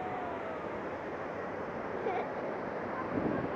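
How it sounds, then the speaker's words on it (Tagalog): Strong ocean waves wash onto a beach shore in Pangasinan, making a constant broadband roar with a slight swell near the end. Faint voices may sit beneath the surf. "Lakas ng alon."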